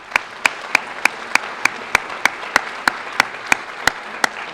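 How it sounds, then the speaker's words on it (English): Sparse applause from an audience at a university graduate student orientation, with a few sharp, evenly spaced claps standing out clearly over a soft background of clapping. "So let's give them a round of applause."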